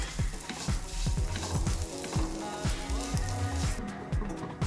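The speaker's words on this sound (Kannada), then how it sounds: "ಶಾವಿಗೆನ ನೀಟಾಗಿ ಲೋ ಫ್ಲೇಮಲ್ಲಿ ಇಟ್ಕೊಂಡು ಸ್ವಲ್ಪ ಬ್ರೌನ್ ಕಲರ್ ಬರೋವರೆಗೂ ಹುರ್ಕೋಬೇಕು" Vermicelli roasts in a pan over a low flame, giving a continuous close sizzle with regular scraping strokes as it is stirred.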